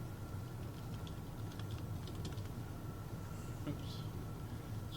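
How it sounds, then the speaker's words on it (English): Typing on a computer keyboard, heard as a run of faint, quick clicks over a steady low hum with no voice. "Excuse my typing."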